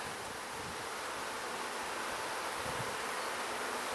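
Honeybees swarm and hum steadily inside an open hive during an inspection, a dense, continuous buzzing that stays loud and close throughout with no voices.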